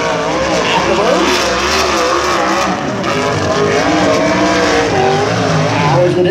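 A USAC race car on a qualifying lap at Lawrenceburg, its engine roaring loud and continuous at close range as it powers into turns three and four, with a brief tire scrub.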